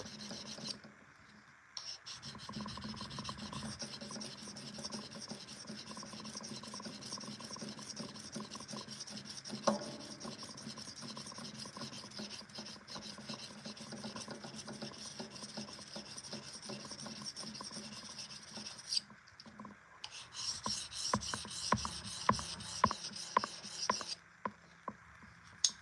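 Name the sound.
filing a swedge onto a pocket knife blade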